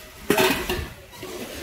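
A stainless steel Japanese pot clanks once sharply as it is picked up and set down, a close metallic knock followed by a faint ringing tail, with no talk over it.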